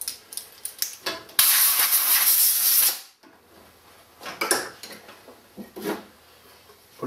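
A loud, steady hiss of compressed air blasts across a lathe chuck for about two seconds, followed by shorter, quieter puffs and metallic clinks nearby.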